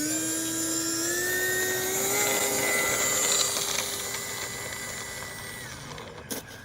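Freewing F-15 Eagle EDF model jet taxiing on the ground, a high, steady electric ducted-fan whine that rises slightly in pitch and then eases off, fairly loud and close.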